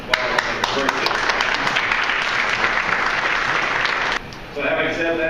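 Audience at a veterans' meeting with the El Paso VA in Las Cruces breaks into steady, dense applause with some sharp individual claps, lasting about four seconds before fading as a voice begins speaking.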